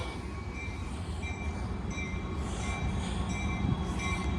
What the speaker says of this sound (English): Now we got a train pulling in.